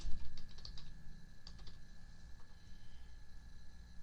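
Quiet keystrokes on a computer keyboard come in short bursts of clicks, with brief pauses between, over a faint steady background hum.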